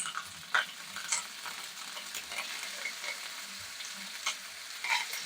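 King fish and curry leaves frying in hot coconut oil, a soft, even sizzle with occasional light spatters and faint stirring touches, fairly quiet and close.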